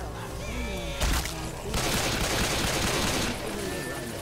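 Gunfire in Left 4 Dead 2: a sharp close shot, then a dense rattling stretch of rapid automatic fire lasting a couple of seconds that tapers off, with brief talk from players around it.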